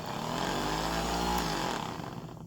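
A Makita 5-inch variable-speed, handle-style random orbit DA finish sander runs with a steady, loud motor whine and buzzing hum, which eases and winds down toward the end as it coasts after switch-off.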